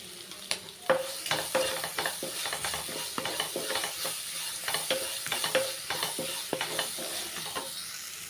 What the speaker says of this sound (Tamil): அந்த கருவேப்பிலை கொத்தமல்லியோட பச்சை வாசனை போகிற வரைக்கும் நல்லா மிக்ஸ் பண்ணி விட்டுக்கலாம்.